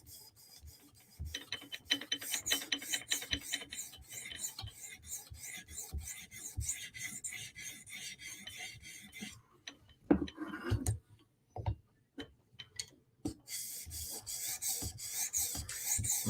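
A Benchmade 940 knife blade drawn across a 400-grit stone on a TSProf Kadet sharpener, giving repeated soft rasping strokes in a steady rhythm, with brief pauses and a few sharper clicks partway through.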